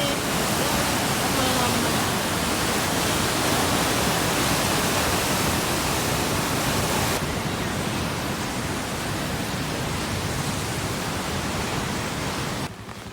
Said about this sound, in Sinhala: බලන්න දොරවල් අරපුවාම මේ වතුර කොච්චර නටනවද කියලා.